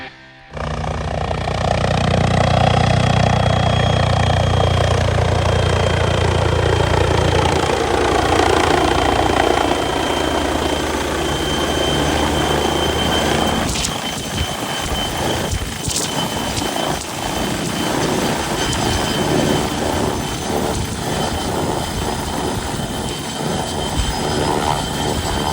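A MBB BO-105 CBS-5 helicopter's turbine engine runs loudly and steadily, with a deep rumble that shifts partway through into a rougher, fluttering whine, close by.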